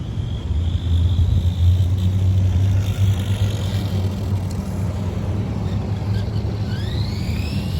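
A 1991 Tamiya Ferrari F40 radio-controlled pan car runs with a steady, smooth low motor hum and gear whine, continuous and fairly close, with a brief higher whine sweeping up near the end.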